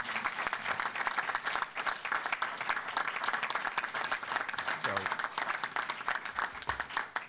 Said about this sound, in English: Yeah, that's another applause that we should take.